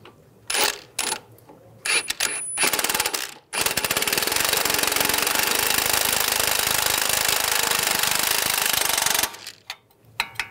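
Wrench working the nut on a front sway bar link of a 2013-2016 Dodge Dart, a few short metallic clicks and taps followed by a long, steady, loud mechanical rattle, then more scattered clicks.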